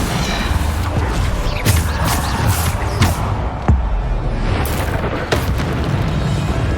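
Bombarda explosion spell cast in the video game Hogwarts Legacy, heard among repeated booming blasts and thuds over a dense, loud battle soundscape.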